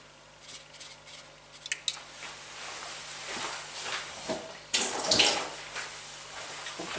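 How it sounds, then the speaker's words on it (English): Tap water runs and splashes while green dye is rinsed off wool locks, a steady close trickle broken by louder gushes and wet squishing as the fibres are handled. "Rinse that green off because I don't really want to put it in with this red."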